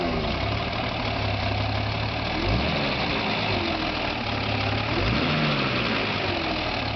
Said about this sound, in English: we're going to do a startup on the 71 Mercedes 250C Coupe.